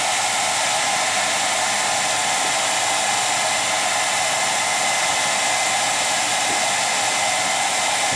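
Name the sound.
hair dryer blowing a chicken dry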